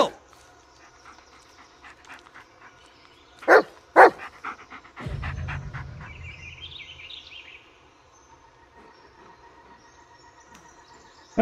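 A dog pants audibly in the Blair Witch video game, with two sharp loud bursts, a low rumbling stretch and faint chirping ambience around it in a quiet outdoor scene.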